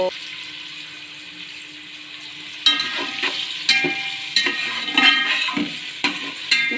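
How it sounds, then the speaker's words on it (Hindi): Onions frying for biryani in a pan, a soft steady hiss at first, then louder bursts of sizzling and stirring clatter in a home kitchen, close and alone without talk. "ये मैंने प्याज डाल दी"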